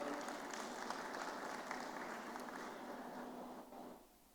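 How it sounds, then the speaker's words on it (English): A conference audience at Stocktech 2026 applauds steadily for a few seconds, a soft, distant wash of claps that fades out at the end. "One round of applause, sir"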